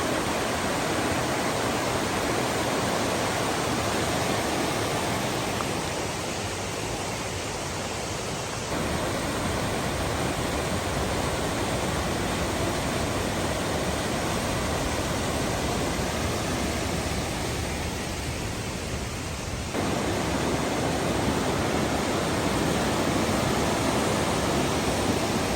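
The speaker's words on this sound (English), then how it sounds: "Creek is looking pretty impressive. It's got more volume than the last creek I was at," Swallow Fork creek in the Great Smoky Mountains rushes steadily with a loud, dense wash of water, close and continuous, with slight swells in volume and no voices.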